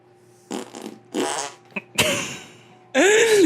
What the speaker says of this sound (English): Can you intone your armpit farts?